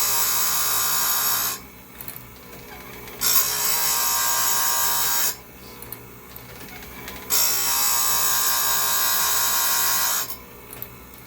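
A chainsaw chain for a 371 XP saw is touched up on a bench grinder in a shop, with several loud grinding bursts of a few seconds each separated by quieter pauses.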